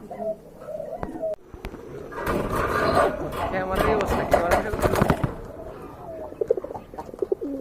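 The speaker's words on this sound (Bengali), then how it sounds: "চলেন আপনাদেরকে কবুতরগুলো দেখাই" Pigeons at a breeder's collection coo and rustle in a loud, dense burst through the middle, with softer calls at the start and end, while someone talks over them.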